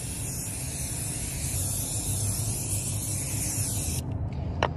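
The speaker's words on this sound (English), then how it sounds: "you can actually spray it on just like this" High-shine tire shine aerosol sprays in one continuous loud hiss onto the trim of a Subaru, stopping abruptly near the end.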